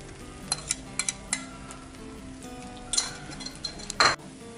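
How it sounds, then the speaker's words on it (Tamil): Beaten egg poured over a dosa frying in cold-pressed sesame oil on a hot griddle for Madurai mutton keema kari dosa, giving a steady close sizzle with two louder hissing bursts and scattered light metallic clinks of a utensil. "இப்போ நம்ம வந்து முட்டையை இது மேலே ஊற்றி விடுவோம்."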